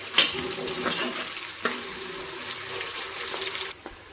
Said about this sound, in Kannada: ಇವಾಗ ಈರುಳ್ಳಿ ಎಲ್ಲ ಚೆನ್ನಾಗಿ ಫ್ರೈ ಆಗಿದೆ.